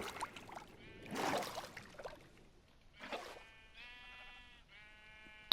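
Sheep in the video game Minecraft bleat in several distinct calls, a couple of short harsh ones followed by longer wavering bleats, fairly close and clear with quiet game ambience between.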